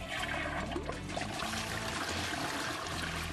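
A Niagara Stealth 0.8 GPF ultra-high-efficiency toilet flushing 600 grams of miso paste, heard as a steady, fairly loud rush of water that holds evenly throughout with no talking.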